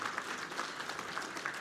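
Guests at a luncheon meeting of the IASP in 2015 applaud with a steady, moderately faint patter of many hands clapping, sustained and even with no speech over it.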